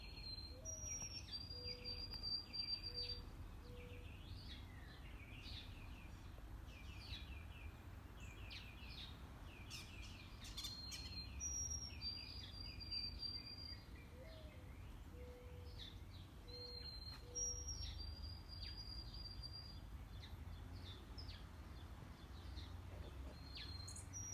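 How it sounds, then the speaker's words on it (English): Repeated high, thin bird chirps come in short clusters every few seconds over a steady bed of insect and cricket noise, fairly faint and outdoors. "Here come some sparrows. I can hear them."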